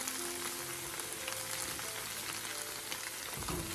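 Chicken, mixed vegetables and spring onions are stir-fried in a pan, giving a steady, close, crackling sizzle that lasts throughout with faint stirring scrapes and no talk.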